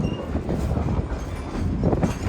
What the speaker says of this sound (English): please remain seated until the train has come to a complete stop